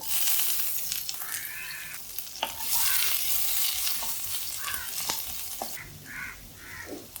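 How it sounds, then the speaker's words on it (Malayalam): Mustard and cumin seeds spluttering in hot oil, steady close sizzle broken by sharp popping crackles, with a few scraping stirs of a spoon. "കടുകും ജീരകവും നന്നായിട്ട് പൊട്ടി വരട്ടെ"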